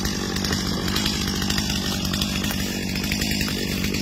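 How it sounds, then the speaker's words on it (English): An electric chainsaw running steadily and loudly up close, its motor whining with a constant buzzing drone as it cuts. "Here's the electric chainsaw."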